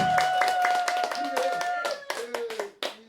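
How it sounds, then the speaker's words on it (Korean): A burst of audience clapping at a Korean traditional pansori performance, dense and lively at first, thinning into scattered claps as a held musical tone sounds underneath. "뜨거운 박수로 맞아주십시오"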